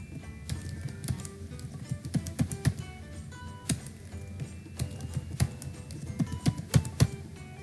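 Computer keyboard keys tapped in quick irregular bursts with brief pauses while a root password is entered during a CentOS 7 Linux installation, close and crisp with no voices.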